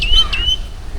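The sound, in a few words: birds chirping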